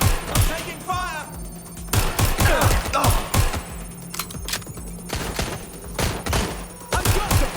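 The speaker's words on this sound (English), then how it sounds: "Shots fired! Shots fired!" Gunfire in the video game Watch Dogs Legion: bursts of sharp shots crack out at irregular intervals, some in rapid clusters, loud and close, with a voice calling out between them.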